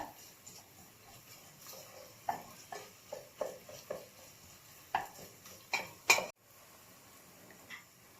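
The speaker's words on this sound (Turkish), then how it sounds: "Salçasını soğanla karıştırdım." A spoon stirs tomato paste into sautéed onions in a pot, giving a run of short, close scraping and clinking strokes in an irregular rhythm, with a brief louder clatter near the end and quiet gaps between.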